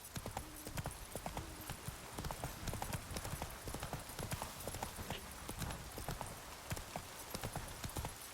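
Roach, the horse in the video game Witcher 3, galloping with rapid, steady hoofbeats throughout, a faint whinny in the mix.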